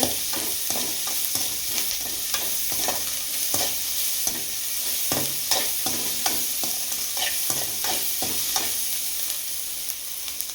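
Onions frying in a pan for fish puttu, heard as a steady close sizzle with a regular rhythm of stirring scrapes throughout, alone with no talk.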